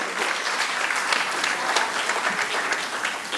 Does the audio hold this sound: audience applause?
yes